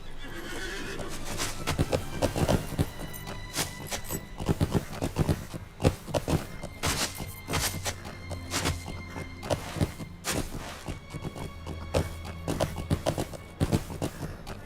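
Steady clip-clop of a horse's hooves trotting along in Lord of the Rings Online, with occasional whinnies and neighs, a constant rhythmic gait with no talking.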